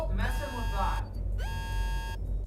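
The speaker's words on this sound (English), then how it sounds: "That alarm triggers when I need to cool them down." A server overheating alarm in the Nancy Drew: The Silent Spy video game blares as a harsh electronic buzzing tone, in two bursts over a low background hum, with a voice talking briefly at the start.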